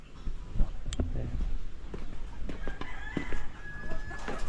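Chickens cluck in a backyard coop, and a rooster crows once in the mix. The animal sounds come irregularly over steady outdoor background noise, near and fairly clear.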